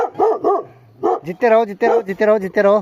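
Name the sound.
neighbour's dog barking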